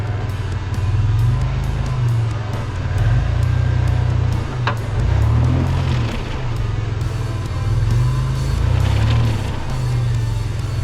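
A 3rd gen Toyota 4Runner, near stock, crawls over an off-road obstacle, its engine a steady low drone that rises and falls as the throttle changes, with occasional clunks and rattles from the truck.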